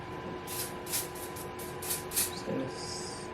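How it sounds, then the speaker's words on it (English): Short bursts of Wonder Lace Supreme Hold lace spray from a black bottle, applied over a glueless HD lace frontal wig, several quick hissing spritzes in a row, close and clear. "Just gonna spritz a little bit of that"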